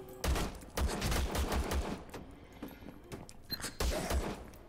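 Rapid bursts of gunfire from the first-person shooter Vladik Brutal, several quick volleys with thumping low impacts separated by short pauses, fairly quiet overall.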